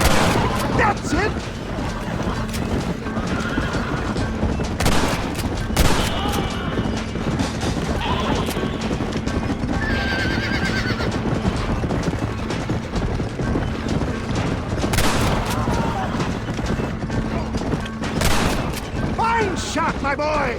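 Gunfire from the Western game Red Dead Redemption, with repeated sharp shots and booms spread across a busy in-game soundscape, mixed with ambient noise and animal bleats, under occasional voices.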